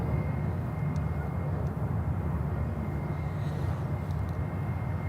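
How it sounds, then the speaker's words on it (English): Steady, loud roar of a jet airplane on its takeoff roll from runway 36 Center at Charlotte airport, a continuous broadband rumble holding at an even level throughout with no voices. "runway 36 center clear for takeoff"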